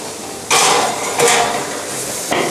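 A metal tray of mushroom burgers put into a hot oven, with two sharp metallic clanks and rattles followed by a lingering hollow rumble, close by with no speech.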